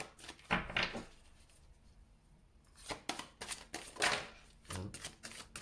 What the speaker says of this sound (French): Et là, la nouvelle lune, je prends deux cartes.